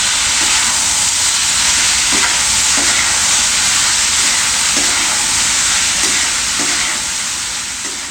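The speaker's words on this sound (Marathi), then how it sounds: "आता हा जो भात आहे तो छान फोडणीमध्ये आपल्याला मिक्स करून घ्यायचा" Cooked rice being stirred into sizzling tempering in a pan for lemon rice: a steady loud frying hiss with soft, periodic scraping strokes of the spoon, no voices.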